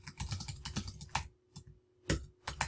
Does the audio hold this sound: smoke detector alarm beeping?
no